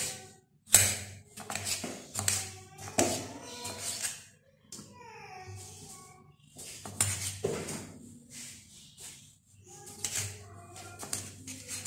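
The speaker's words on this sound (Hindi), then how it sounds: "टमाटर को थोड़ा सा बारीक काट लें ताकि पकौड़े में अच्छी तरह मिक्स हो जाए" A knife finely chops tomato on a board while pakoras are being made, giving bursts of rapid, close, sharp taps separated by short pauses, with a quiet stretch in the middle.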